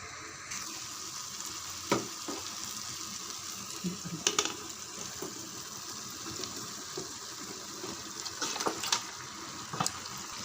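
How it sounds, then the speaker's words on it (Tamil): Marinated chicken coated in ginger, garlic and yogurt hisses steadily as it fries in masala, with a few sharp clinks and scrapes of stirring over the continuous sizzle and no talking. "இப்போ வந்து சிக்கன் சேர்த்துடலாம்."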